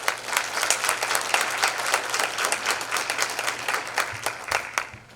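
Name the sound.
audience applause at induction ceremony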